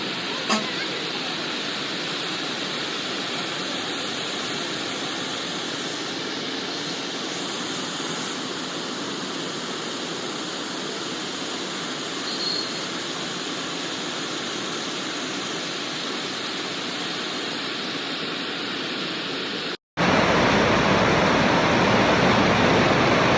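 Overflow from Erumbi lake near Sholinghur pours out through its outlet channel, a steady loud rush of water roaring continuously throughout, with a brief break near the end before the rushing resumes.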